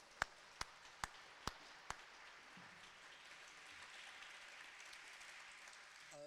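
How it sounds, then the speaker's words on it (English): At a student awards ceremony, five sharp, loud claps ring out close by in quick succession, then give way to a faint, diffuse patter of distant audience applause that lingers quietly to the end. "Again, another big thank you, and I think one more round of applause just to..."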